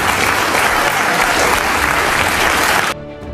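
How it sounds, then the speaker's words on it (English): Studio audience at a live political talk show applauding, a loud, sustained wash of clapping that stops abruptly near the end. "Even Maher's liberal audience ends up applauding Republicans for showing up."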